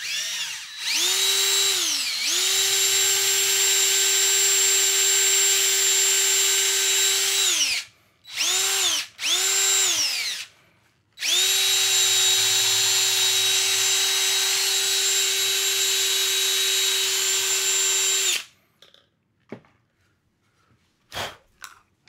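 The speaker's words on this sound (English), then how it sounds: "let's drill them out" Power drill whining close up while drilling out holes in a custom joystick controller, long steady runs broken by short bursts as the motor spins up and stops, followed by a few small handling clicks.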